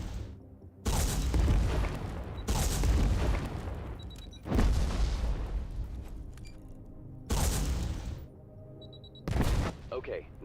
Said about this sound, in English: Switch to third mode and shoot targets down with detonating missiles.